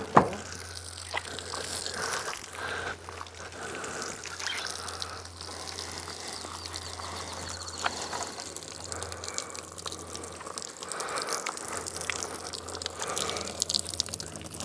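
Water trickles and drips steadily from a plastic milk jug shot outdoors with a .22 rifle, a faint, continuous splashing trickle with no talking.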